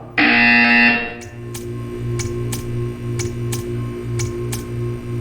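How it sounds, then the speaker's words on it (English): A loud electronic buzzer blares for about a second in Portal 2, then a series of sharp ticking clicks repeats at a steady beat over a low hum. "You will hear a buzzer."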